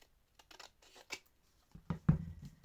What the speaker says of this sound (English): this one's got a jagged edge, so I'm just going to kind of come in with my scissors